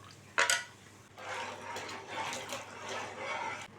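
Rice flour batter is stirred in a pot on a stove over medium heat, with a sharp clink of the spoon against the pot followed by soft, rhythmic scraping swishes in bursts.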